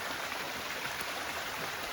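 Water pours steadily over rock at Wildcat Wayside with a bright, even, hissing rush that stays constant and fairly close, and no voices are heard.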